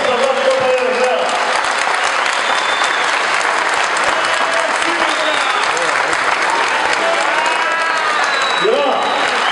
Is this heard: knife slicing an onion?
no